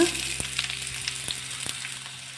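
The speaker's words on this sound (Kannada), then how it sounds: "ಎಣ್ಣೆ ಕಾದಿದೆ ಈರುಳ್ಳಿ ಹಾಕೊಳ್ಳೋಣ" Onions dropped into hot oil for an egg puffs filling, giving a bright, close sizzle that sets in immediately and holds steady, with a few light stir clicks and no talking.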